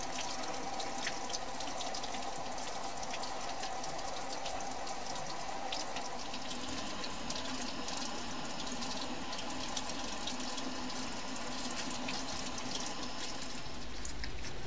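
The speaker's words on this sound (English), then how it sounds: "Then the product was washed with water until the pH of the filtrate became neutral." Water runs steadily throughout as a synthesized dibenzalacetone product is rinsed in a lab until the filtrate turns neutral, a continuous close tap-like flow and splash with no talking.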